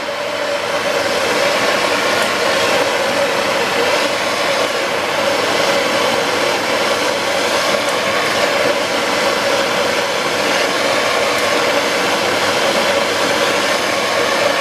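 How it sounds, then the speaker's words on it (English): A torch flame turned up high to heat an aluminum repair rod (HTS-735-11) on a pontoon boat repair, giving a steady, loud, continuous roaring hiss with no talk. "Apply the heat. I'll turn the flame up."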